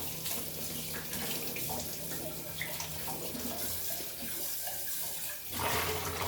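Water runs steadily from a tap as something is washed in a sink at home, a continuous splashing flow heard up close with small clinks and shifts in the stream and no speech.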